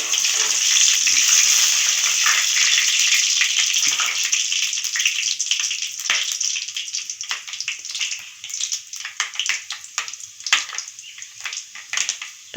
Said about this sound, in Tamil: நம்ம எடுத்து வச்சுருந்த வெந்தயம், சீரகம், மிளகாய் இப்போ சேர்த்தாச்சு. இப்போ அது நல்லா பொரிஞ்சு வரட்டும்